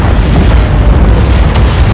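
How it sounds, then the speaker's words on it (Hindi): A massive volcanic eruption at Yellowstone in the disaster film 2012: a loud, continuous deep rumbling roar with blast-like bursts that fills two seconds, then cuts off abruptly. "अचानक एक भयानक ज्वालामुखीय विस्फोट होता है"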